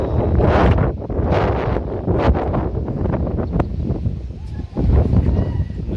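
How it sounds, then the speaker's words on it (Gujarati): Strong gusts of wind, raising dust, buffet the microphone with a loud, roaring rumble that rises and falls throughout, in an open village setting. "એટલી પવન જોરદાર ફેંકે છે"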